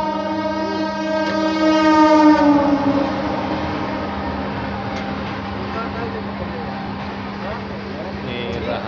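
The Rewa to Anand Vihar Terminal Express, a passenger train, runs past with a long, loud horn blast in its first seconds, then a steady rumble of wheels and cars that carries on alone afterward.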